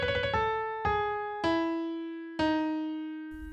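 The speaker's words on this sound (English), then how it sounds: "the closest notes I can play on a piano sound like this" Four separate piano notes struck one after another, each ringing out and slowly fading before the next, stepping downward in pitch to approximate a Thai oboe trill; solo and close, with no talking.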